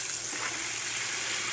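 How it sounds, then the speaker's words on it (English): Water gushing steadily and loudly to rinse soil off the thick, hardy roots of a water canna plant, a continuous close spray with no talk. "The first thing we're going to do is rinse off the soil."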